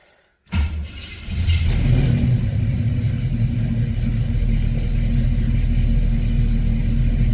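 A car engine cold-started on ether without choke cranks briefly, then catches at about half a second and settles into a loud, steady, deep idle rumble that continues alone to the end.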